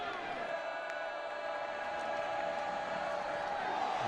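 Stadium crowd at a 2018 college football game between WSU and San Jose State, a broad steady roar of cheering that holds loud and even throughout, with a commentator talking over it.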